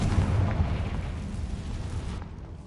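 A Confringo explosion spell going off in the fantasy game Wizard Simulator: a loud, broad boom that rumbles and slowly dies away over a couple of seconds.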